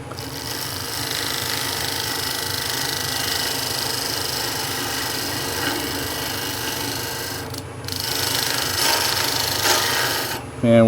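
Continuous scraping and rasping of a gouge hollowing a cherry wood bowl on a running lathe, steady and close for most of the span with a brief dip near the end before the cutting resumes.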